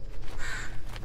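Crows cawing in the horror video game The Bridge Curse Road to Salvation, a hoarse drawn-out call over a dense, noisy ambient background, with no voices.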